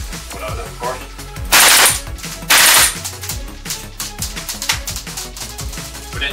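A GHK gas blowback airsoft rifle fitted with CNC feed lips fires rapid, punchy shots in quick strings. It is loud and close, and two brief bursts of hissing noise cut in partway through.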